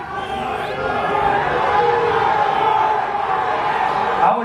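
A crowd at a Dallas Cowboys training camp event in Oxnard cheers and roars as Jerry Jones addresses them, a sustained, distant wash of voices that swells slightly and then settles.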